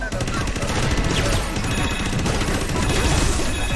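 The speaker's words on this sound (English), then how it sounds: "Literal gun" A gun in the Astro Bot: Rescue Mission game fires rapidly, a loud, dense stream of shots and impacts rattling without pause over a few seconds.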